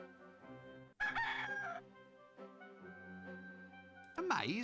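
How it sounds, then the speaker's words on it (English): A rooster in the Discworld II: Mortality Bytes video game crowing a drawn-out cock-a-doodle-doo over game background music, followed by a sharper second crow at the end, with voices heard alongside. "There was a chicken there."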